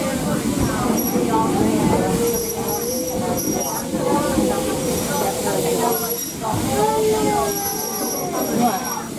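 Torch Lake No. 3 steam locomotive rolling on the Greenfield Village Railroad, July-style excursion ride: a steady rumble of wheels and cars with faint high squeals, while passengers talk throughout.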